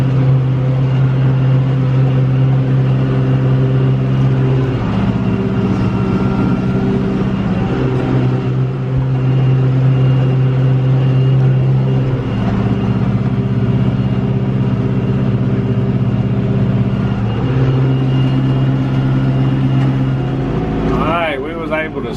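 A farm tractor with a cutter mows tall grass in a damp field, its engine a loud steady drone close by with periodic shifts in pitch as it works, continuing throughout with no voices.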